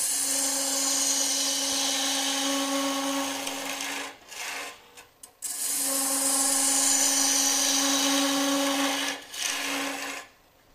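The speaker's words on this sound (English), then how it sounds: "So what I'm doing with the bowl gouge at the moment is just using the gouge as a skew. And I'm just using a shearing cut." A wood lathe turns a long-stem goblet while a bowl gouge makes shearing cuts, a loud sustained high whine with steady hiss that briefly drops out twice as the tool lifts away, heard without talk.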